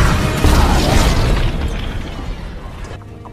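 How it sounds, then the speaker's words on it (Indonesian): A bomb explodes in a film scene: a loud, broad, rumbling blast that hits at once and then slowly fades over a few seconds. "Bom pun akhirnya meledak di tempat itu."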